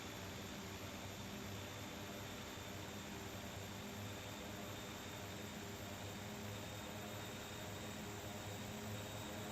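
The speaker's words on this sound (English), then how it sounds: "This turboprop engine sounds nice." Turboprop aircraft engine in the Condor3 flight simulator, a continuous steady drone with a constant tonal hum and broadband whoosh, unchanging and alone.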